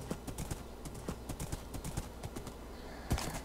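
A horse in Minecraft trots steadily, its hooves clip-clopping in an even repeating rhythm, moderately loud and close, with a heavier thud near the end.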